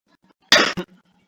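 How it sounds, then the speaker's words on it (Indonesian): A single sharp, loud cough bursts out in a quiet room during an online class, a short double burst with faint background murmur around it. "Maaf ya, saya lagi batuk soalnya."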